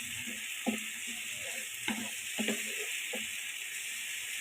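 Raw spice masala frying in hot oil in a home kitchen, a steady close sizzle with a few soft stirring clinks and scrapes scattered through.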